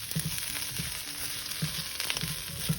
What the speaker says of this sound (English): It's starting to fry up and get nice and brown.